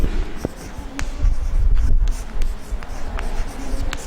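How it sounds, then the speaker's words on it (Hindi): Handwriting of a theorem statement on a surface during a geometry lesson on similar triangles, giving short scratchy strokes and taps in an irregular rhythm, close and fairly clear, with no talk. "हम थेल्स के प्रमेय को पहले उसका स्टेटमेंट लिखते हैं।"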